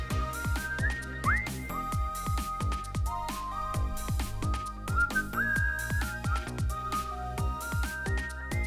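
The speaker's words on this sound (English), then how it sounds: "Wait for the whistles." Whistles sound in the puzzle adventure game Ghost Trick: Phantom Detective, with a few rising, sliding whistle tones layered over a busy, rhythmic music track with punchy percussion.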